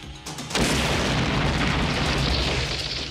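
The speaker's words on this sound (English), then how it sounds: "That was a bomb?" A bomb explosion in an action movie trailer: a sudden loud boom erupts after a brief quieter lead-in, then a thick rumbling roar that holds and slowly fades.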